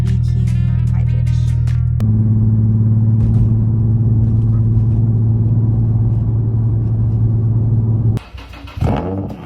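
Infiniti G35 idling after a cold start, a steady low rumbling drone held for several seconds before cutting off, with brief noises at the start and end.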